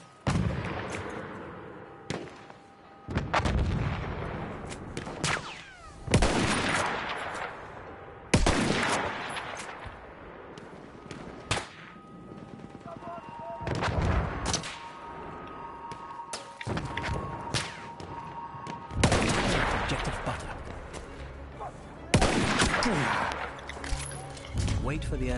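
Enemy artillery barrage in the Battlefield 1 shooter game: repeated heavy booming blasts and rumbling impacts, loud and close, recurring in bursts with scattered gunfire between them and game speech underneath.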